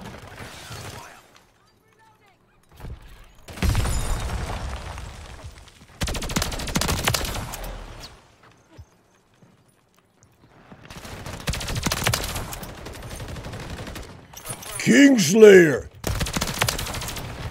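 First-person shooter video game gunfire with several bursts of rapid shots separated by gaps, loud and close, with someone talking over parts of it.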